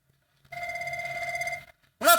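A classroom telephone rings with one loud, close electronic warbling burst lasting about a second, then a voice begins speaking just after it stops.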